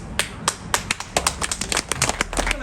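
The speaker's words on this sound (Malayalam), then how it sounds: "എന്തിനാ കൈയടിച്ചത്?" Close, steady clapping from an audience gathered at a talk, with sharp overlapping claps in a quick, slightly uneven rhythm and no voices.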